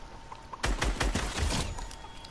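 A burst of rapid video-game gunfire in a survival shooter, with several quick loud shots fired in a fast cluster that fades into quieter ambience afterward, with no speech over it.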